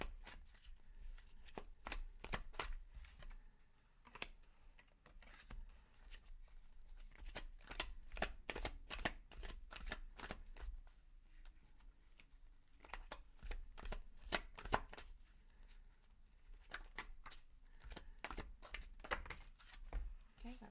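A deck of tarot cards being shuffled in repeated crisp riffling bursts, close up, with quiet speech now and then between the shuffles.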